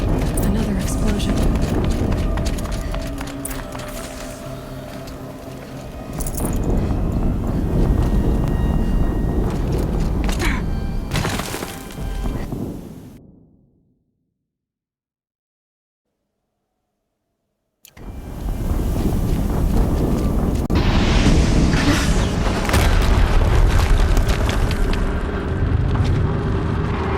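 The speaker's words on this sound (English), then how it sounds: "Another explosion." Loud, dense in-game booms and rumbling blasts in Horizon Zero Dawn, with a sudden total dropout midway before the heavy roar resumes; voices speak over the action.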